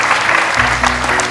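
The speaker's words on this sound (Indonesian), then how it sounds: "tepuk tangan untuk Dewa Juri yang luar biasa ini" A studio audience at an Indonesian children's Quran recitation talent show claps for the judges, a short burst of close, dense applause with a low musical tone rising beneath it partway through.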